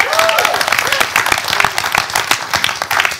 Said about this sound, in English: And everybody gave him an applause as well.